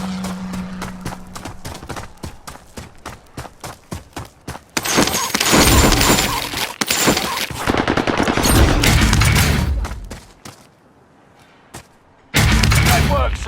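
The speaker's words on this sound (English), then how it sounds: "Send the airstrike here. This is Phoenix 3. Strike inbound." Intense bursts of automatic gunfire and heavy explosions from an airstrike in the video game Call of Duty Warzone Pacific, loud and continuous with a brief lull before another blast of fire.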